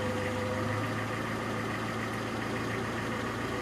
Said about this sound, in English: it starts first pop, engine's running smooth